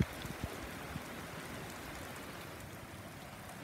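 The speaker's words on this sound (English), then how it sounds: "It's raining so hard." A steady, dense hiss of heavy rain during a thunderstorm pours down continuously, with a few faint drips at the start.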